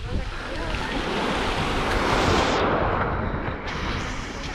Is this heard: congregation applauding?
no